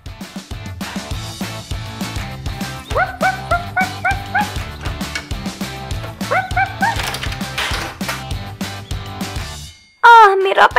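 A toy dog in a Barbie dollhouse play scene gives a sharp, close yip-like bark near the end, loud and sudden after steady background music with a rhythmic beat and bright melodic notes.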